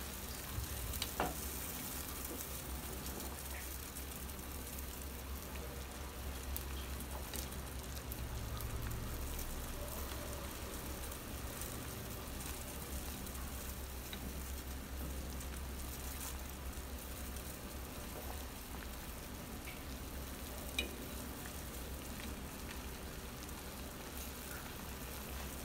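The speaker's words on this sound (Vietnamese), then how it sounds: "Đun sôi như này trong khoảng tầm 2 đến 3 phút nhé" Perilla leaf water boiling steadily on a stove, a constant soft bubbling hiss with a low rumble underneath and an occasional faint tick, unchanging and moderately quiet throughout.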